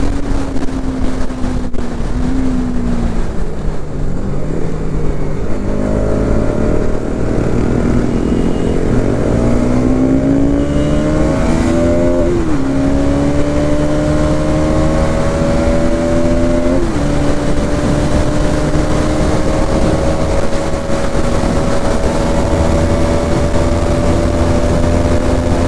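Bajaj Pulsar NS200 BS7 motorcycle engine revving loudly and steadily for the whole stretch, its pitch rising and falling through gear changes while wind rushes against the microphone.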